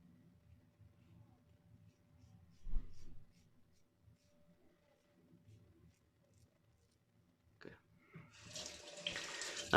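Tap water runs into a sink for a face wash after a wet shave, a quiet trickle with faint handling sounds that swells into a louder, steady gush over the last couple of seconds.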